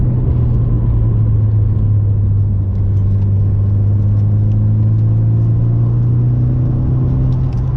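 A car engine pulls on a winding mountain road, giving a loud, steady droning rumble that rises gradually in pitch as the car accelerates through the gears.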